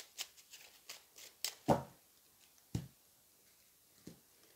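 Deck of tarot cards being cut and shuffled, a few soft riffles and sharper slaps spread out over quiet moments, near and faint.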